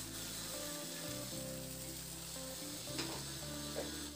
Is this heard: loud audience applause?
no